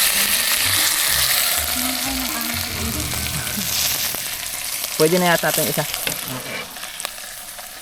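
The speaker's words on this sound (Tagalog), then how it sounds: "Nasusunog na yung niluluto ko." Food sizzles and crackles in a hot pan at a car camping spot while it is stirred and scraped. Brief speech and voices in the background come through over the steady frying hiss.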